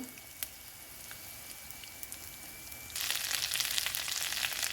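Garlic frying in a pan for a curry leaf pickle, a soft steady sizzle that jumps to a louder, crackling hiss partway through, with no talking.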